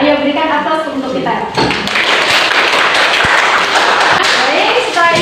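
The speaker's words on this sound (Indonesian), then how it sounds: "Ayo berikan aplaus untuk kita." A classroom of students breaks into loud, sustained applause, dense clapping that starts suddenly after a woman's spoken prompt and keeps going to the end.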